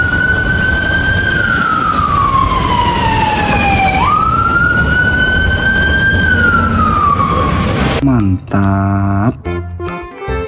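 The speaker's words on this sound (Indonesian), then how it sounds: "Di sini ada mobil water cannon." A toy water cannon truck's loud siren wails in long rising and falling sweeps, then switches to a rapid stepped electronic tone pattern near the end.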